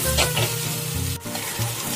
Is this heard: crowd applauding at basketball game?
no